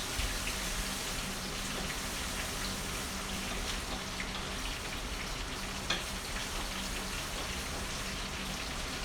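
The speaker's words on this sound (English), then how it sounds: "frying of ginger garlic paste." Steady, dense sizzling of ginger garlic paste frying in hot oil, crackling continuously without pause and fairly close.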